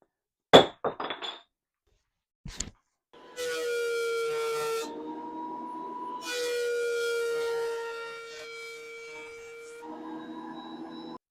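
A wood planer gives a loud, droning whine with steady tonal hum, running in two long passes over scrap wood pieces separated by a brief pause, after a few sharp knocks.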